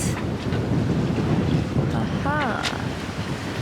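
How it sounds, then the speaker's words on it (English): A sailboat sails offshore fifty miles out in strong wind, with loud continuous wind buffeting and rushing water, and a brief voice or creak partway through. "now we are offshore sailing 50 miles out"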